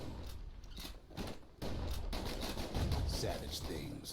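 Dual slinger pistols fire in the video game Bastion, a rapid series of sharp gunshot bursts mixed with game effects and music, growing busier and louder partway through.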